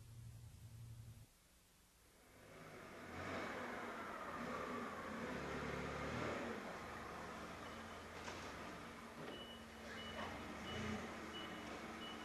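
A forklift drives along with its reversing alarm beeping steadily over a broad, continuous engine and motor rumble, holding loud and close throughout.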